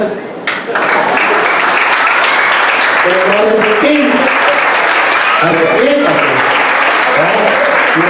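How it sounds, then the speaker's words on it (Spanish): A church congregation applauds in praise to the Lord, a loud, sustained wash of clapping with voices and singing tones rising over it throughout. "podemos dar un aplauso al Señor"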